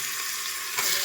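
Mutton fries in a cooked-down spice paste, giving a dense, continuous sizzle close by that swells slightly toward the end of the brief moment.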